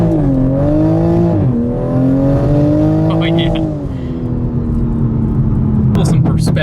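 A 2020 Toyota Supra with a big turbo pulls hard through the gears, a loud close engine note rising, dipping briefly at a shift, then climbing again before easing off, with a voice briefly heard over it.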